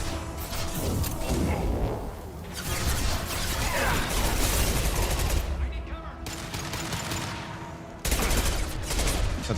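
Heavy automatic gunfire in Mass Effect 2, rapid crackling bursts with short breaks and mechanical clatter, loud and close, with a voice faintly under the shooting.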